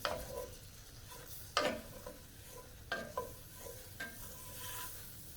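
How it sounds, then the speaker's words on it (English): Flour is stirred into melted butter to form a roux for chicken pot pies, with quiet sizzling under a few distinct scrapes of a utensil against the pan, spaced a second or so apart. "Now I'm gonna add my flour. And I'm just gonna mix this. And this is pretty much going to be forming a roux."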